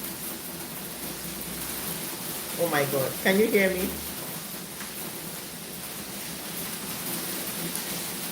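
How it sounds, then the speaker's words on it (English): Heavy rain mixed with hail pours down steadily as a dense, loud wash of noise, with a person briefly talking over it. "it's raining, and it's raining ice"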